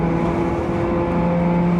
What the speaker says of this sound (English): we have a header, 4-to-1 header, and then a straight pipe throughout. So that's why it sounds a little bit sporty.